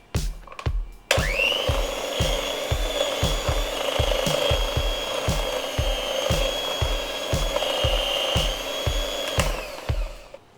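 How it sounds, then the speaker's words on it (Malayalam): An electric hand mixer beats sugar and butter into sponge cake batter, a steady high whine running for about ten seconds. The beaters knock against the bowl in a regular rhythmic clatter, close and fairly loud. "അപ്പോൾ നമ്മുടെ പഞ്ചസാരയും ബട്ടർ നല്ലപോലെ ബീറ്റ് ചെയ്ത് കിട്ടി."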